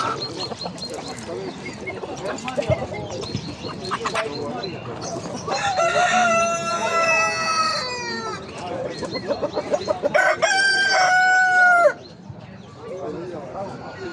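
Denizli rooster crowing at a crowded poultry market, two long drawn-out crows rising over steady background chatter and bustle of nearby birds and people.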